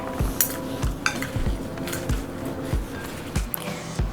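Spinach and chickpea salad tossed in a bowl with a spoon, producing steady scraping and clinking of utensil against the dish, close and fairly loud, with no talking.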